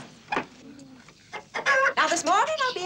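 A chicken gives a few soft clucks, then a louder run of nearby clucking and squawking, with someone speaking faintly at the start.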